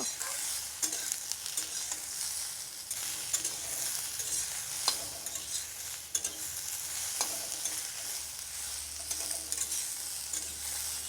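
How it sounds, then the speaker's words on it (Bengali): Water lily stems being stirred in a hot pan, giving a soft, even sizzle with gentle scraping strokes throughout, fairly quiet and close with no voices. "শাপলাটা একটু নাড়াচাড়া দিয়ে নেব"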